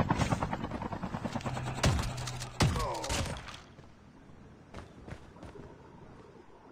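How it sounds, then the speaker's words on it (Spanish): Gunfire in the mobile shooter COD Mobile, a long-range sniper rifle: two sharp, loud shots in quick succession, followed by fainter, more distant cracks over a steady mechanical hum. "Dos tiros"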